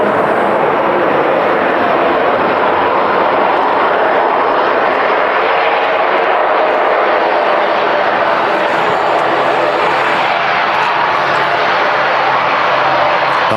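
An airliner roars loud and broadband at windy Manchester Airport, a continuous jet rush that holds steady throughout, with faint voices talking beneath it.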